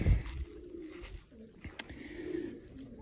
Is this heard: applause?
no